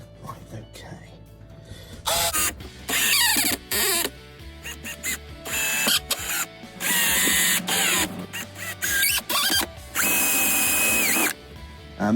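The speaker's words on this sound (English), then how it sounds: "I'm drilling some pilot holes because it's a bit weak at the minute" A power drill drives pilot holes into a weak wooden upcycled bench, whirring in several loud bursts that start and stop repeatedly, with quieter handling noise and some talk in the gaps.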